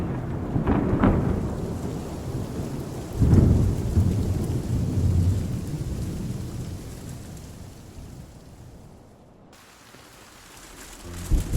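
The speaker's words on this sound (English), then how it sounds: "So many gray clouds. I guess the storm's brewing." A thunderstorm in the video game Love and Deepspace: steady rain with loud rolling thunder rumbles early on, fading into softer rainfall with a short gap before the rain resumes.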